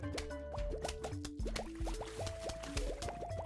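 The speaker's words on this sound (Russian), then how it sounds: "опять слышу, в воду кто-то плюхнулся" Repeated watery plops and splashes from Plants vs. Zombies, with short falling tones sounding several times over a steady game music backdrop, close and fairly loud throughout.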